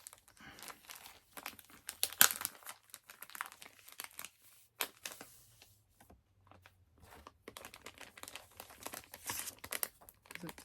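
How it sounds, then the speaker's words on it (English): A comic book is pulled out of a crinkling plastic bag, giving close, intermittent bursts of crackling and rustling with quiet gaps between them and no talking. "I'm just going to take it out of the plastic here."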